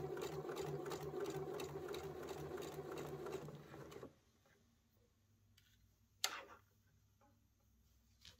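A domestic sewing machine stitches flat fabric for a tear-proof sewing slit, whirring in a fast rhythmic run for about four seconds before stopping, followed by quiet handling and a single sharp click.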